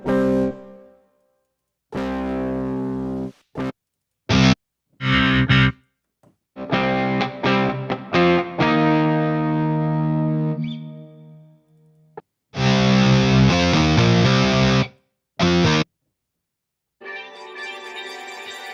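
Electric guitar played through a guitar VST plugin with a distorted, effects-laden 70s rock tone, heard in bursts of chords and riffs separated by short silences, loud and close with no talk.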